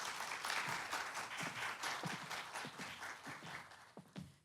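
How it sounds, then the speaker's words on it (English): An audience at a memorial lecture applauds warmly, giving a dense, sustained burst of many hands clapping that thins slightly toward the end. "Please give her a round of applause as she comes forward."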